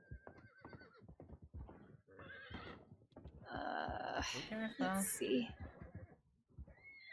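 A horse in the video game Red Dead Redemption 2, on the WildRP roleplay server, lets out a loud, drawn-out whinny over ongoing conversation, with a voice speaking briefly before it.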